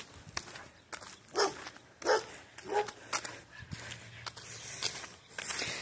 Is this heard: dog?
yes